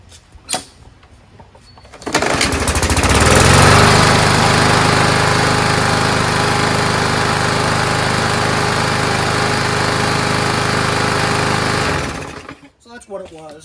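A push lawnmower's small engine starts and runs steadily at a loud, even drone for about ten seconds, then cuts off, close by.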